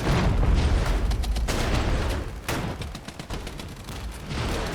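Mortar fire in the strategy game Regiments: dense, rumbling booms and crackling gunfire pile up continuously, loud and thick, with sharper blasts punching through the battle din.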